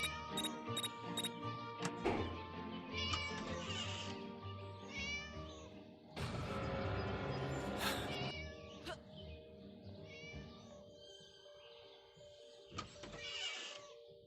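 Cat meowing repeatedly in the video game Scary Teacher, several drawn-out mews and a caterwaul, mixed with electronic tones and thumps, no talking.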